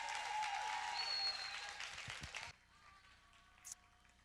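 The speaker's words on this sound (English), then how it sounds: "can everybody give Tracy a big round of applause" An audience at a talk bursts into applause, dense and loud clapping for about two and a half seconds before it cuts off, leaving a quiet room with a few faint sounds.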